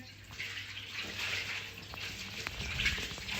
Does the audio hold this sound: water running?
yes